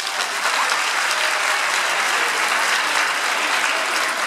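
A crowd at a Shembe church regional conference applauds a speaker, a steady loud wash of many hands clapping with no breaks and no voices.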